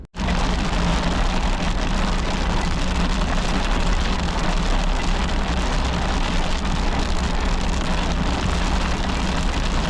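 Heavy rain drums loud and steady on a Suzuki Jimny as it drives through Himachal Pradesh near Mandi, a dense unbroken wash of noise with no talking.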